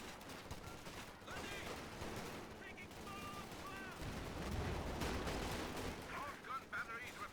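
Rapid gunfire and machine-gun bursts crackle in the video game Company of Heroes 2, with dense overlapping shots and heavier artillery booms running continuously at moderate volume, mixed with game voices and chatter.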